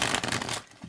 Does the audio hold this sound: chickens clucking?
no